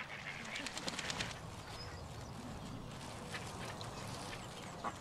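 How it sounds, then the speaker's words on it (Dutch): Several ducks quack in a busy outdoor scene, with overlapping calls and a steady background bustle. "Er zijn heel veel eenden."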